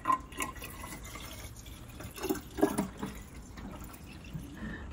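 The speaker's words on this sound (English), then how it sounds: "Let's add some water, see if it does." Water trickles and drips as it is poured into an old barn-find car's engine, an irregular splashing that swells in the middle, close and moderately loud.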